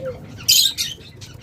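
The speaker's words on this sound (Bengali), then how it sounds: "আপনাদেরকে এখানে একজোড়া ফিশার লাভবার্ড দেখাই" A pair of Fischer's lovebirds, male and female at a nest box, gives a single sharp, shrill chirp-squawk up close, followed by a softer short call.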